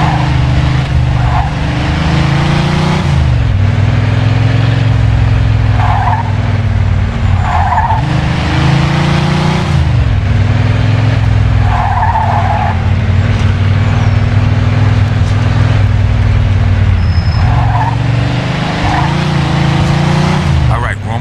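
A car driven in the video game Mafia 2 holds a loud, continuous engine drone with rising and falling gear changes and occasional tire noise, steady throughout.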